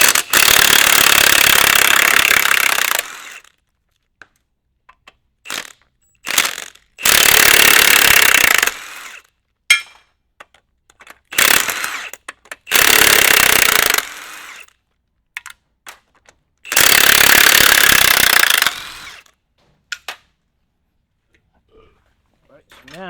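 A battery impact tool hammers loose the main bearing caps on a hydrolocked BMW S58 engine in loud, close bursts of a few seconds each, with quiet gaps, clanks and brief talk between them.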